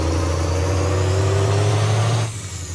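A car engine hums at a steady, loud idle with a rising whine as the transmission decides to shift, then the tone drops abruptly as it drops into gear.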